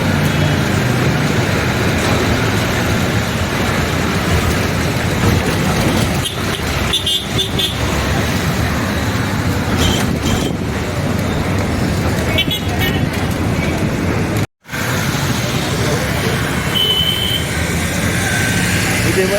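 A bus drives through busy city traffic near Chinthamani into the Chathiram bus stand in Trichy, with a steady loud road roar, occasional horn toots and a brief dropout near the end.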